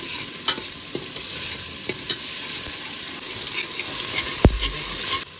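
Masala spices frying in hot oil in a pot over a gas flame, cooked for a fish-and-greens curry. A steady broadband sizzle runs throughout, with scattered stirring scrapes and a sharp clack near the end, and no voices.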